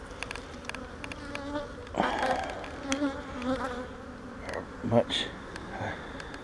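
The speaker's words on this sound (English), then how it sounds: "There's a lot of bees on that." A crowd of bees swarms over an empty frame in a mating nuc, a steady near buzzing and humming with occasional louder passes close by, joined by faint handling noises.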